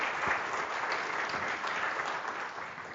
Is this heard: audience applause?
yes